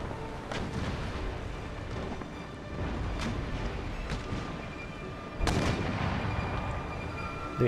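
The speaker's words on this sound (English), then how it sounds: "They are mortaring us," Mortar ship firing in the naval battle game Empire: Total War, with repeated heavy booms over a dense, continuous rumble of cannon fire, one especially loud blast standing out near the end.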